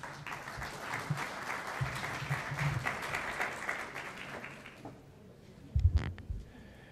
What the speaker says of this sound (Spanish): Lo recibimos con un fuerte voto de aplausos.